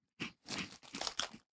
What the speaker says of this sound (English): I like eating 2 cheesy crunchy balls at all times.